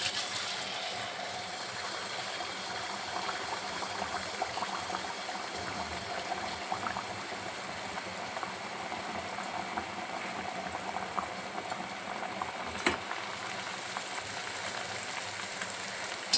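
Dough for sweet jaggery appalu bubbles in a pan of hot oil, a steady close fizzing and crackling deep-fry sound that holds evenly throughout, with no voices.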